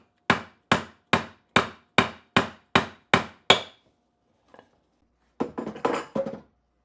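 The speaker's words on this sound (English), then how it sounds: "Now I can hammer this." Hammering a part into a helical cutter head on an old Jet jointer: nine sharp, evenly spaced blows, a pause with one faint tap, then a quick burst of closer, clustered strikes.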